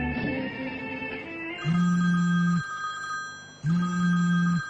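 A telephone bell rings in two long bursts amid a drama scene, each ring steady and prominent, with a low background of music or ambience between the rings.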